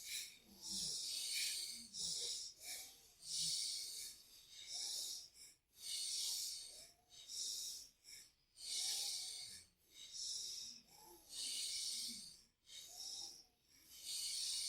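Slow, deep belly breathing, with soft airy inhales and exhales alternating in a steady rhythm of roughly two-second cycles, quiet and close with no talking.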